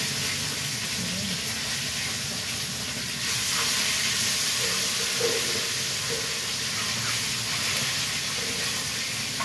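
Tilapia sizzles in a hot pan, a steady loud frying hiss that swells a little after a few seconds, with faint kitchen clatter and soft voices underneath.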